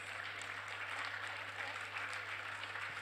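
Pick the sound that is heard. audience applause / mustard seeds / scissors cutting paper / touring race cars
audience applause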